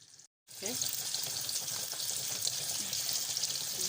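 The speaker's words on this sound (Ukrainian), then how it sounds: "вони смажуться дуже швидесенько" Chicken cutlets sizzle and crackle steadily in a frying pan, a continuous bright hiss close up after a brief silent break at the start.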